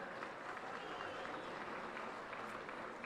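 Steady applause from an audience at an annual induction ceremony, continuous and fairly distant with crowd murmur beneath, sustained evenly without breaks.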